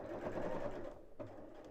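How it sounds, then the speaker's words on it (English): A sewing machine stitches fabric along a crease line, a quiet close whirring run that breaks off briefly near the end before starting again, with no talking. "So I'm sewing along that crease line."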